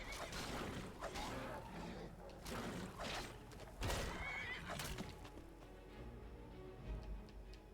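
A horse neighs loudly and repeatedly in Skyrim amid combat with death hounds, with hoof clip-clops and thuds mixed into a busy, continuous game soundscape.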